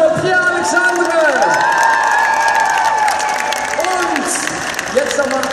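A Gamescom crowd applauds and cheers the winner of a Blizzard cosplay contest final, a loud continuous roar of clapping and shouts. A presenter's amplified voice carries over it throughout.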